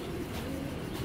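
A racing pigeon coos softly in a loft, a low, continuous murmuring call over a steady background hum, brief and close.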